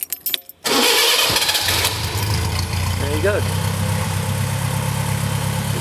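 Westfield SE sports car with a small 600 crossflow engine and Weber carburettor cranks and catches quickly, then settles into a loud, steady rumbling idle; someone speaks briefly over the engine.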